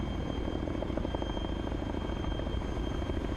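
A helicopter in a video game flies with a continuous, loud rotor and engine drone, a dense rumbling throb that stays steady throughout, alone without voices.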